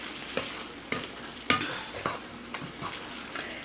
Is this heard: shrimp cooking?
yes